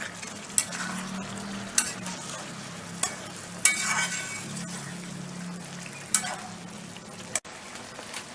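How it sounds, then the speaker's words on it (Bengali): Mutton kosha frying in oil with splashes of hot water, stirred in a pan: a steady close sizzle broken by several sharp spoon scrapes and clacks, without talk. "অল্প অল্প করে জল দিয়ে এটাকে কষাতে হবে"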